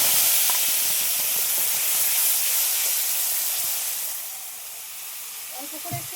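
A spice paste hits hot oil while a jackfruit and prawn curry is cooking, setting off a loud, broad sizzling hiss that slowly fades and quietens toward the end.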